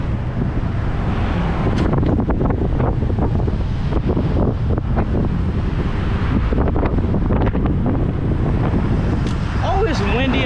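Strong wind buffets the microphone throughout in continuous loud rumbling gusts outdoors, with a few faint voices partly buried beneath it.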